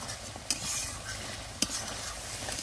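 Spice masala for chitol fish tel jhal fries in oil under a constant sizzle, with two sharp scrapes of the stirring spoon against the pan.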